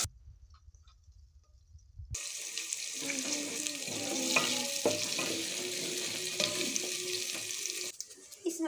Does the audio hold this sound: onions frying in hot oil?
yes